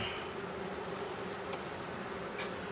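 Honey bees hum in a steady, dense drone at an open hive that has a newspaper sheet under the box, the buzz continuous and close with no voices.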